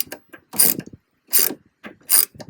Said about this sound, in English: I will then tighten them with the ratchet.